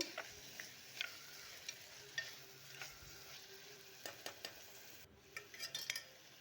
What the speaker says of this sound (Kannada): ಈ ಮಸಾಲೆ ಒಳಗಿನ ಹಸಿ ವಾಸನೆ ಎಲ್ಲ ಹೋಗೋವರೆಗೂ ಚೆನ್ನಾಗಿ ಫ್ರೈ ಮಾಡ್ಕೊಳ್ಬೇಕು